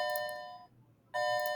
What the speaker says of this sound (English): sorry for the bell here